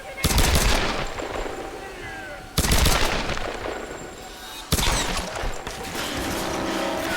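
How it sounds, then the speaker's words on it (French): Pistol fire in the Tomb Raider video game, three sharp loud shots spaced a couple of seconds apart, each trailing into a rumbling echo over game ambience. "Ok, pistolet, pistolet."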